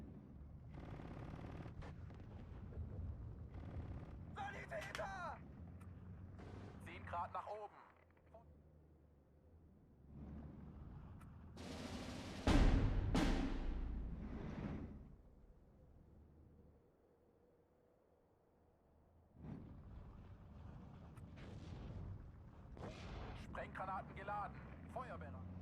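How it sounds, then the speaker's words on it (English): Artillery fire in the strategy game Steel Division 2 arrives as deep, heavy booms and rumbling blasts, with a sharp loud impact in the middle, mixed with distant gunfire and a voice talking over parts of it. "That artillery is pretty big."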